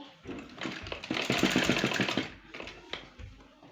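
Close by, a sewing machine stitches a boat neck on a kurti in a quick rattling run of needle strokes, speeding up briefly before settling and stopping.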